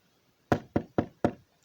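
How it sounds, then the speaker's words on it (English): Knocking on a door, four firm evenly spaced knocks close by and loud, standing alone with quiet before and after. "The big bad wolf knocked on the first little pig's door."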